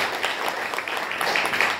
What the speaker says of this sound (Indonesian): Berikan aplaus sekali lagi buat Bapak